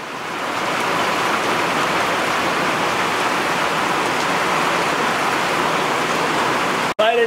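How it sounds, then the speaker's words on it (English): Steady, dense rain pours down continuously, a loud broadband hiss of drops hitting surfaces, ending with a brief break near the close. "Listen to that rain."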